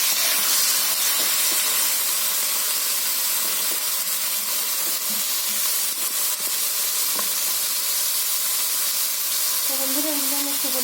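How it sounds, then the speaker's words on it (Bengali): Ivy gourd (kundri) frying in oil in a wok gives a steady, loud, broadband sizzle and hiss that runs without a break from start to finish, with a few faint clinks underneath. "তো কড়াইতে আমি কুঁদলিটা দিয়ে দিচ্ছি"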